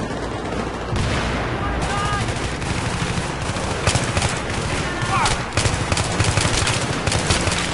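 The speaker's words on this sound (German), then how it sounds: "Von überall schießen sie" Heavy firefight in Battlefield 3: bursts of machine-gun fire and scattered shots from several directions over rumbling battle ambience, with someone speaking now and then beneath the shooting.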